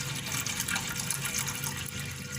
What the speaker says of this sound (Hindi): बगैर हड्डी का गोश्त लिया है मैंने और अब मैं इसमें पानी डाल रही हूँ।